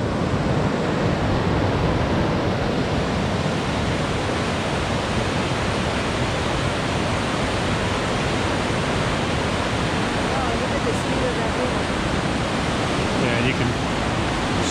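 A rushing Himalayan river on the trek from Phakding to Namche fills the air with a loud, continuous broadband roar of churning water, steady and unbroken throughout.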